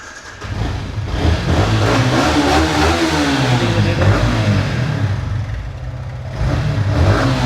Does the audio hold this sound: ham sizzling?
no